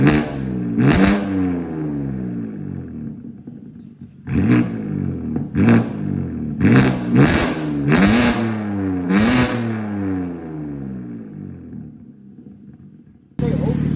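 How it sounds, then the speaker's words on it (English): A BMW G8X M3/M4 with the S58 engine and Azora downpipes, exhaust valves open, gives a series of short, loud blips of revving from near, each quick rise and drop separated by brief idle, with no talking. "those little revs were with the valves open"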